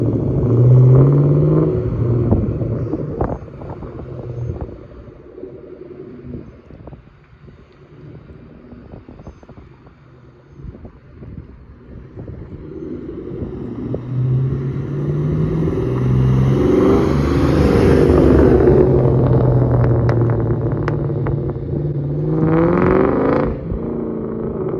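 A Ford Mustang V8 rumbles at a low idle, then the revs climb and swell into a louder, throaty roar before easing back, heard close up with some wind buffeting.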